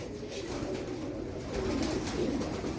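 Teddy pigeons coo in low, repeated rolling calls, close and steady, with a faint bird background and no speech.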